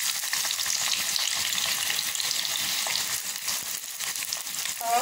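Onions frying in a pan for an egg roast curry, a steady loud sizzle with occasional stirring scrapes, close and continuous with no talking.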